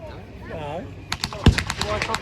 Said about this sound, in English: Still some gunfire, still some Germans resisting.